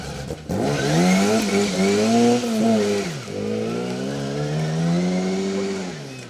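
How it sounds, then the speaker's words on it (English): A Mini rally car's engine roars close by on a bumpy forest stage, revving high then dropping as it passes and pulls away, loud and continuous. "Okay, third car through. Sounds like a Mini."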